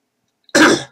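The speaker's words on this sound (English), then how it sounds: "Cough." A single short, throaty cough bursts out after silence, close to the microphone and lasting under half a second.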